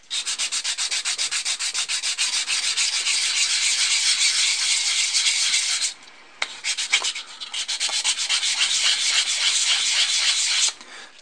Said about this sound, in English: I don't even know what grit sandpaper this is.